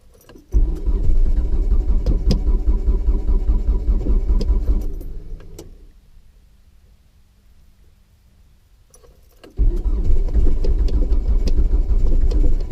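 Mitsubishi Eclipse with a battery problem, starter cranking repeatedly without the engine catching, a loud steady churn that stops, leaves a quiet gap, then resumes for another long attempt.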